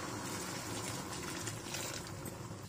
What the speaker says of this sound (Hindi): अब इसमें मैं थोड़ा सा पानी शामिल कर देती हूँ ताकि मटर हमारे अच्छे से गल जाएं।